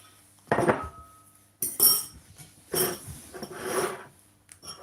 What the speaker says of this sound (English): Need another plate for my eggs. And a fork for whisking.